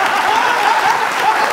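Studio audience applause on the comedy show Mazaq Raat, a brief burst of steady clapping from the crowd with a faint voice mixed in.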